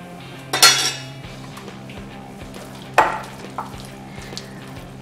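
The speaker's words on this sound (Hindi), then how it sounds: "2 टेबलस्पून मैंने मैदा लिया है, ये भी मैं इसमें डालती हूँ। इसे अच्छे से मिक्स करेंगे।" Marinated chicken for chilli chicken is mixed with flour in a bowl, and a utensil clinks and scrapes against it in two sharp bursts with quieter knocks in between, close and alone, with no talking.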